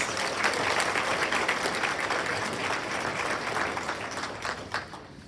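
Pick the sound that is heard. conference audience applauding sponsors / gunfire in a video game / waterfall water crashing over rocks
conference audience applauding sponsors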